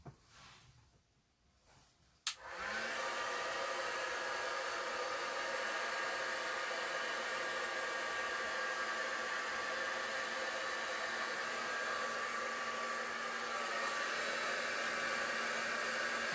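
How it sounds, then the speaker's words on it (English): A heat tool dries a piece of inked watercolour cardstock. After a brief click, it blows a steady, loud, whooshing roar with a faint whine that runs on without a break. "I'm just off to one side drying a piece of watercolour cardstock at the moment"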